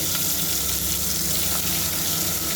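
Stuffed brinjal masala with mustard seeds and curry leaves frying in plenty of oil for gutti vankaya curry, a steady loud sizzle throughout with no talking.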